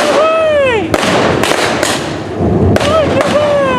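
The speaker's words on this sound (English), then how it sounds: "There goes a grenade." A grenade goes off during a staged wartime reenactment of a train takeover at a heritage railway, heard as a few sharp loud bangs and thuds over a busy outdoor background of crowd voices and talk.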